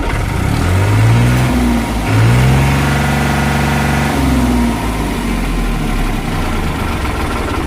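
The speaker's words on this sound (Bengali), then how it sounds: "গাড়ি ইঞ্জিনের সাউন্ড খুবই সুন্দর সাউন্ড" A New Holland TT55 tractor with 3,300 hours, used for road haulage, runs its engine close by with a loud, steady idle, rising in two brief revs early on before settling back into an even rumble.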